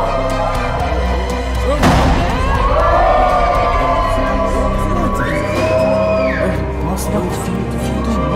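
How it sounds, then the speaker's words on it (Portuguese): Rowdy shouting and commotion at a school, with loud overlapping voices, yelling and cheering, a sudden thump and a rising whoop in a busy crowded space. "Baderna e bagunça."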